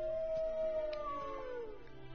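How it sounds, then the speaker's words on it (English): A dog in a Dragon Ball video game lets out a single drawn-out howl that slides downward in pitch, fairly faint, with a second wavering tone overlapping near its end. "What is that, a dog?"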